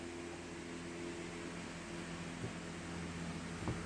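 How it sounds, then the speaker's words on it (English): A steady electric fan whirs close by with a constant broadband hum and faint motor drone, nothing else standing out. "Really sorry about the fan"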